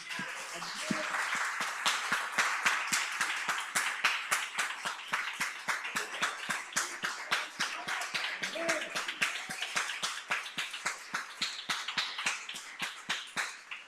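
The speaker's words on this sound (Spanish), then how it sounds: "Dale un aplauso al Señor." A church congregation claps in unison during a sermon, a steady fast rhythm of sharp, evenly spaced claps that keeps going for the whole stretch, fairly close and moderately loud.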